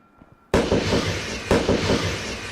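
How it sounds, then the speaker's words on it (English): Small celebratory fireworks burst after a goal in Destiny 2, two loud cracks with crackling tails following a quiet lead-in, close and bright. "Those little fireworks shoot off when anybody, sorry, I cannot words, makes a goal."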